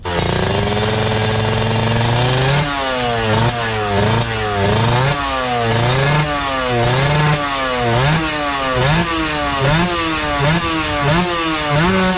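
A newly bought motorcycle engine runs loud and close, revving up and down repeatedly in a steady rising and falling pattern after an opening idle.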